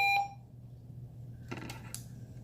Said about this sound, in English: let me turn that buzzer off.